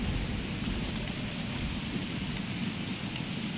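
Steady rain hiss in a Don't Starve thunderstorm, a dense, even wash with a low rumbling undertone that may be distant thunder, continuous throughout with no talking.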